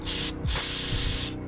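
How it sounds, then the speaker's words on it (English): Aerosol carburetor cleaner blasts into the small passages of a carburetor in two hissing bursts, a short one and then a longer one, close and steady, with no talking. "Spray each one from both sides, you know, in case anything's stuck one direction."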